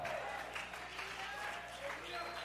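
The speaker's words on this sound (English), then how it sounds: "You better clap better than that." Congregation applause during a church sermon, a steady wash of clapping from many hands filling the room, moderately loud under a raised preaching voice.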